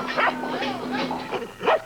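Dogs barking and yipping in a 1982 Chuckwagon dog food TV commercial, several short bright barks spaced across the clip with a steady music or voice bed underneath.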